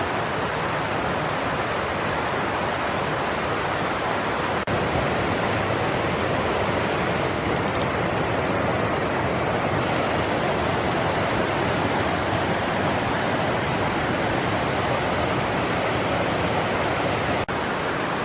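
The Little River in the Great Smoky Mountains rushes along in a steady, unbroken broadband wash. It is fairly loud and even from start to finish, and no one speaks.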